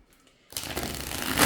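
Erenberg Tarot deck of adequate U.S. Games Systems cardstock being riffle shuffled; a sudden burst of dense, papery flutter starts midway after near silence and builds slightly toward the end, close and fairly loud, with no talking.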